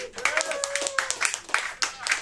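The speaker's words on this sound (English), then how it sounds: "Let's do a nice, super awesome round of applause for Lucas over here in the corner." Pub audience clapping and applauding at a live show, a steady patter of hands under a sustained musical tone, with a voice speaking over it.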